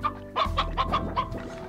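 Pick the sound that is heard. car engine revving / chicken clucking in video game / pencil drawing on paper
chicken clucking in video game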